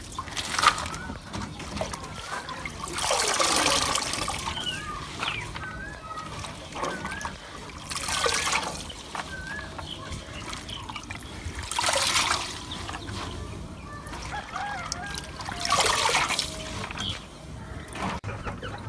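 Water sloshes and trickles in repeated bursts as spinach is swished and lifted in a basin of water, nearby, with faint background sounds between splashes.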